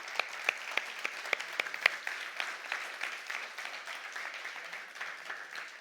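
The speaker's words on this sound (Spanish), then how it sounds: "Denle un aplauso fuerte a Jesús" A church congregation claps loudly for Jesus, a dense sustained round of applause with sharp individual claps standing out at first, fairly distant and steady to the end.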